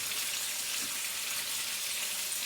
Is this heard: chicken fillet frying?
yes